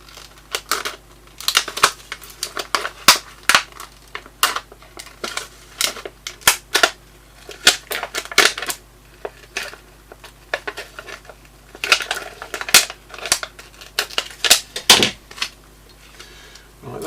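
Scissors snip through an old aluminium drinks can in a series of sharp, close metallic cuts and clicks, irregularly spaced with brief pauses between bursts.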